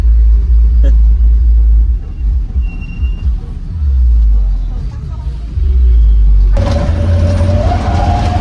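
A small, colourful local bus rumbles along in Berastagi, Indonesia, with a heavy low engine drone that rises and falls close inside the cabin, under music and someone talking.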